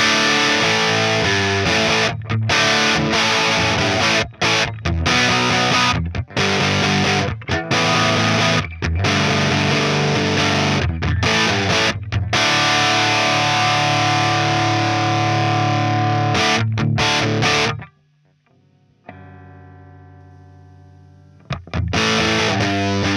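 An electric guitar blasts through a cranked amp head with heavy distortion, loud chugging riffs and chopped stops, then a sudden drop to quiet before a final loud burst.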